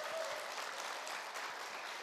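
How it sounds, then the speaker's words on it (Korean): A seminar audience at a Korean business meeting claps steadily, a dense wash of applause at moderate level from a crowded hall, with no talk over it. "박수 한번 크게 쳐보세요"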